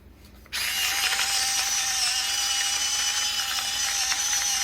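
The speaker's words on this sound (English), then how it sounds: "I have a salt grinder." A salt grinder starts abruptly after a brief quiet moment, then grinds salt in a steady, close, whirring buzz that holds unbroken until the end, with no speech over it.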